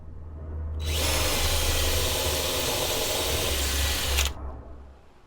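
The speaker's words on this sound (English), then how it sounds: "go ahead and drill the hole" A power drill whirs steadily for about three and a half seconds, drilling a hole in an Airstream trailer, loud and close, over a low hum, then cuts off abruptly.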